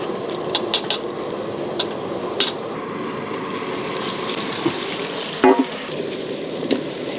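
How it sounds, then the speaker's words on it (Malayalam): Chicken pieces fry in a pan with a steady, close sizzle and hiss, broken by scattered scraping and clinking as the pieces are stirred and turned; no one speaks. "ഒന്ന് ഇളക്കിയിട്ട് തിരിച്ച് മറിച്ചൊക്കെ ഇട്ട് ഒന്ന് ഫ്രൈ ആക്കി എടുക്കണം."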